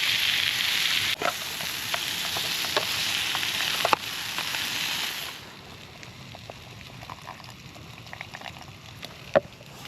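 Buds sizzle in wagyu steak juices in a pan at a woodland wild camp, a steady close crackling hiss with scattered pops that drops to a quieter simmer partway through.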